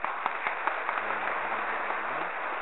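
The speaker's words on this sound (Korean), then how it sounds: "조정희 가브리엘 신부님 환영하는 마음으로 박수 부탁드리겠습니다" A congregation at a Sunday Mass in a Catholic church applauds a visiting priest. The clapping is a soft, steady, muffled wash, with a faint voice briefly underneath.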